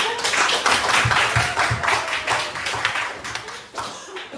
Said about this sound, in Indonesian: Nih, tepuk tangan buat Anto 4.